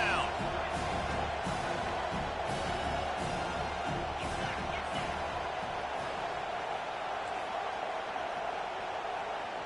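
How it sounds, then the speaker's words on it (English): Football stadium crowd roaring on a 3rd down as the home fans get behind the defense in a Ducks vs Miami game, a sustained loud wall of noise with scattered whoops and shouts throughout. "Decibels rising as the crowd gets behind this defense on 3rd down."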